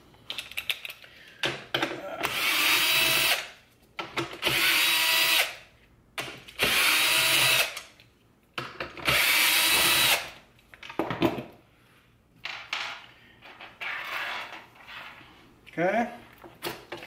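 A power driver spins out the four T25 screws holding the shifter in a C8 Corvette's center console, in four loud, steady whirring bursts of about a second each, separated by short pauses. Quieter clicks and handling noises of the console trim follow.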